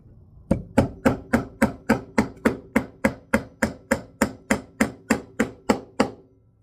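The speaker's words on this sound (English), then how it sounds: "Hammer time." A hammer drives maze nails into a wooden bluebird house in about eighteen evenly spaced, close, sharp blows at a brisk, steady pace.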